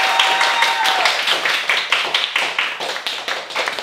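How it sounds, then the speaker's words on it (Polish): Rhythmic clapping from a small studio group voting for a contestant, crisp repeated claps in a fairly even beat at steady, close loudness, with a short voice at the start. "Brawa dla Mai."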